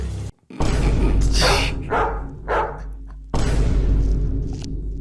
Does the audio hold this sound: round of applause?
no